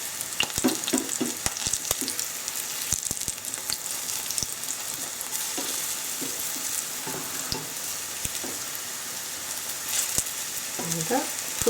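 Vegetable burgers sizzle steadily in a frying pan, a continuous crackling hiss with scattered pops and light scraping as they are gently turned, heard close with no talking.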